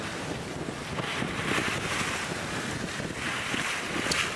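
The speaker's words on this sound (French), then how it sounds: "Nous sommes en mer, avec un vent de force 15-20, marchant à 6-7 nœuds" Steady wind at sea aboard a sailboat making 6 to 7 knots in a force 15–20 breeze, with continuous rushing gusts, microphone buffeting and the wash of water along the hull, no voices.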